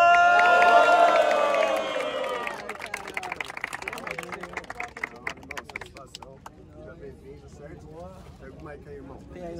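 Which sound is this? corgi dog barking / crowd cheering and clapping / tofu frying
crowd cheering and clapping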